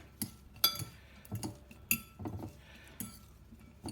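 Salmon ingredients are mixed with butter in a dish, producing a quiet series of sharp utensil clinks and scrapes against the dish at irregular intervals, with no talking.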